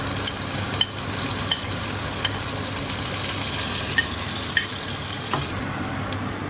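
Garlic, curry leaves and rampe fry in hot oil with a loud, steady sizzle close up, punctuated by small stirring clicks and pops at irregular intervals, with no voices over it.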